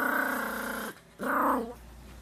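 A dog growls low and close in two sustained rumbling bursts separated by a brief pause, loud and alone with no talking.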